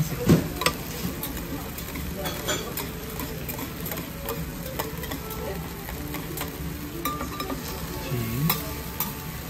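Monjayaki batter and mashed ingredients sizzle on a hot griddle while being scraped and stirred, giving a continuous frying crackle with irregular spatula clicks and scrapes, and a voice speaking briefly.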